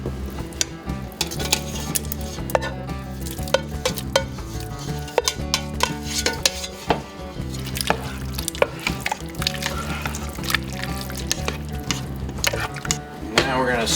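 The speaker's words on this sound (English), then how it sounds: "Now we add back in the meat." Meat returned to the pot for a Guinness Irish casserole, stirred with steady scraping and clinking over a continuous sizzle, close and moderately loud, with a sustained tonal hum running underneath throughout.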